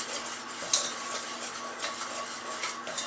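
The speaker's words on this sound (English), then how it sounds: "I'm going to go ahead and add that to the flour and whisk it together." A whisk stirring flour into melted butter in a pan, with fast, continuous metal scraping and clinking against the pan and a faint sizzle underneath.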